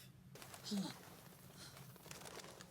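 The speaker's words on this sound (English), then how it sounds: "Oh shit. It's just the birds." Pigeons or doves cooing briefly and faintly in the background of a dramatic scene, a short soft call rising once amid low ambient noise.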